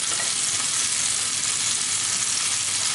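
Lamb chops sear in hot oil in a pan, giving a loud, dense, steady sizzle and crackle that fills the whole moment without any talk.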